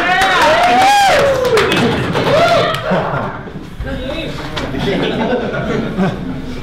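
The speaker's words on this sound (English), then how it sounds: "I feel like I put anything up on the screen, you guys would be cheering" A college hall audience at a game jam presentation erupts in loud cheering, whoops and clapping, with a crowd roar that gradually settles into scattered applause and chatter.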